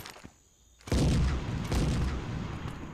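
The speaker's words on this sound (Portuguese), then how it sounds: "Tomou granada, hein." A grenade in the Modern Ops shooter game goes off as a loud, close boom that rolls into a crackling, rumbling tail of gunfire and debris lasting a couple of seconds.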